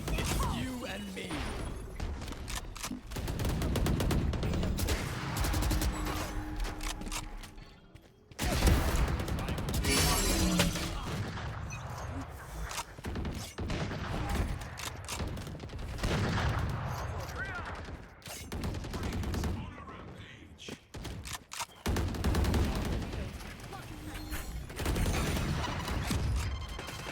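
Rapid bursts of gunfire in the tactical shooter game Valorant, with dense automatic volleys and clattering impacts running loud and steady for most of the stretch, briefly dropping out before resuming, with a voice talking over parts of it.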